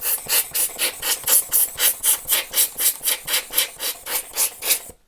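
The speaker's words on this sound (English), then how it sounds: "all we do, blower again, camera face down, without the lens on obviously." Hand air blower puffing onto a camera sensor with the lens removed and the body facing down, a rapid train of about eighteen short rhythmic breathy puffs, close and steady, stopping abruptly.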